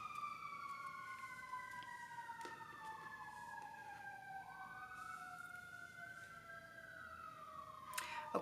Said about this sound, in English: I apologize for the sirens in the background.